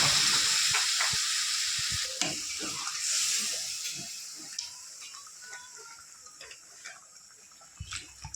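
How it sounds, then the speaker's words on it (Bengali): Water is poured onto a fried spice paste in a pan, so a loud burst of sizzling and steam hiss at the start fades to a quieter bubbling with scattered small pops and ticks, with no speech. "এবার দিয়ে দেবো পরিমাণ মতো জল"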